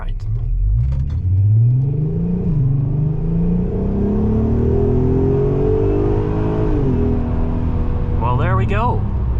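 VW Golf R32 with a loud Scorpion exhaust accelerating hard in sport mode, engine note climbing through the gears with a rumbling, rising drone heard from inside the car, and a voice briefly near the end.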